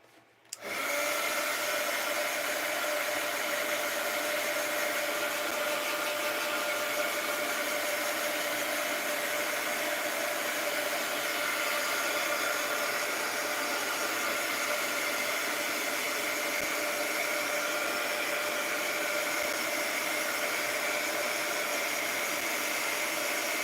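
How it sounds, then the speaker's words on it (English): A heat gun blows steadily on wet paper in a mixed-media craft setup, a loud, continuous hissing roar that starts abruptly and holds without a break, with no voices. "Let's hit it with the heat gun."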